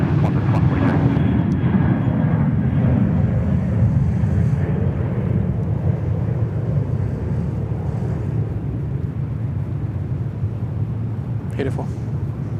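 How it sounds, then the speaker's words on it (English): A Qantas airliner landing on runway 34 right at Sydney Airport produces a loud low engine rumble that slowly eases off, with talk heard over it. "Qantas 142, wind 310 degrees, 7 knots, runway 34 right, clear to land."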